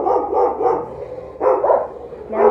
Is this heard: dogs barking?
yes